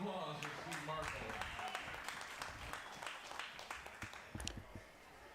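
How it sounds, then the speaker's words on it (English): An audience at an artistic pool championship gives a sustained round of applause for player Steve Marshall, steady clapping that tapers slightly, with a commentator talking over it. "How about a round of applause for Steve Marshall?"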